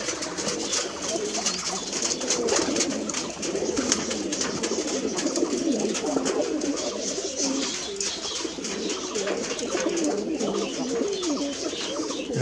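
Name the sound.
Giribaj pigeons cooing at a farm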